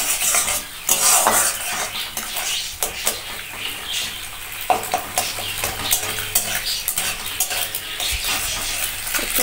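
Two eggs fry in a pan while a utensil stirs and scrapes against the metal, with repeated clinks and knocks over a soft, steady sizzle and no talking.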